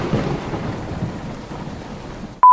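Thunderstorm with rain, a steady patter of rainfall and a low rumbling undertone, moderately loud, ending in a short clicking tone.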